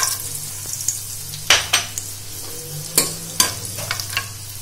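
Whole star anise, cloves, cardamom pods and a large piece of cinnamon stick fry in melted ghee for a jackfruit biryani, with a low steady sizzle under sharp clinks and scrapes of a spoon stirring in the pan.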